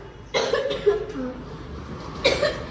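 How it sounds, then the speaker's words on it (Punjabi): Two close, sharp coughs, one near the start and one near the end, with quiet murmuring in between. "ਖਾਂਸੀ ਆਈ ਸੀ"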